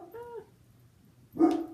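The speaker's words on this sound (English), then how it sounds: "my dog is barking." A dog barks indoors in a home, with a short whimpering yelp followed a second later by one sharper, louder bark, fairly close and with no talk over it.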